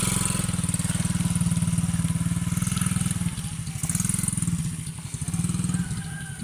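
An ATV engine runs close by with a loud, steady pulsing putter that rises and dips slightly in pitch, rough and throbbing throughout, with no clear talk over it.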